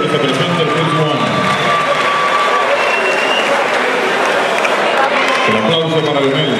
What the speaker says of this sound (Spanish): El aplauso para Leonel desde Matanzas, Atenas de Cuba.